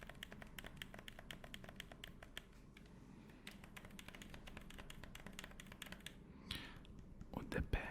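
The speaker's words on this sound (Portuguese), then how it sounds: "Os botões de ombro são mais durinhos, tem um clique." Rapid, close clicking of game controller buttons, with firm shoulder buttons giving distinct clicks, dense repeated taps in quick succession, quiet and intimate, with soft whispered talk mixed underneath.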